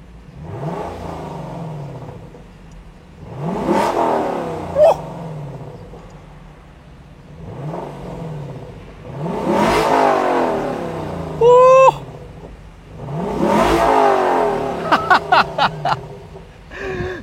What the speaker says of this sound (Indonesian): sekarang kita coba dulu suara knalpotnya seperti apa